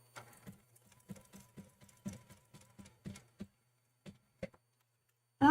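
A sewing machine works a tiny back stitch on an appliqué quilt, giving a run of quick, evenly spaced mechanical taps that slow to a few isolated stitches near the end, close and alone.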